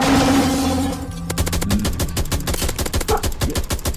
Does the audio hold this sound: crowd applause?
no